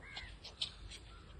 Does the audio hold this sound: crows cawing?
yes